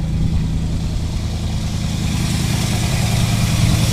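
Engine of a 1984 Dodge Ram running on its own, a steady close idle with a low rhythmic chug that grows slightly louder toward the end, no talking.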